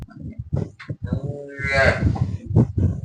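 A Gir cow offered for sale at a farm in Chadchan, Karnataka, gives one loud, drawn-out moo that swells in the middle, with low thumps and shuffling close by.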